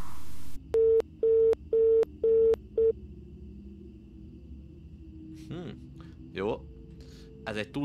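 Phone tones in the PC horror game Graveyard Shift: five evenly spaced steady beeps of a busy or call signal, loud and close, followed by scattered voice fragments over a low background rumble.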